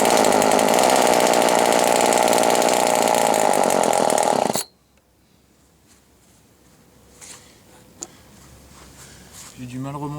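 Small Ryobi leaf blower engine running after repair, a loud, buzzing two-stroke roar that cuts off abruptly after about four and a half seconds, followed by quiet handling noises.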